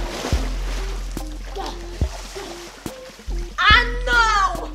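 A person jumps into a home swimming pool, making a short splash of water amid background sounds, followed by excited high-pitched shouting.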